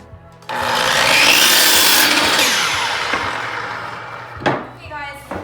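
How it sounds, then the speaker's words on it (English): A miter saw cuts through a piece of wooden trim in one loud, sustained pass of about four seconds, then winds down, with a short knock or two afterward. "I'm gonna go over to the miter saw and I'm gonna make my cut again."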